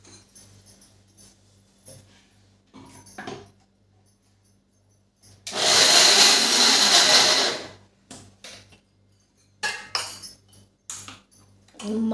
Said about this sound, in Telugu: అల్లం వెల్లుల్లిపాయలు మిక్సీ పెట్టుకోవాలండి